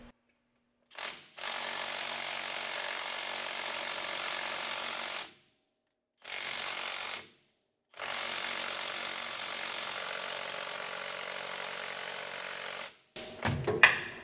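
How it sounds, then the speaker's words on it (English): A Milwaukee impact wrench working a stuck John Deere oil filter, in three long, loud, steady hammering bursts separated by silent pauses, with clattering handling noise at the end. "just stick the old Milwaukee impact on her"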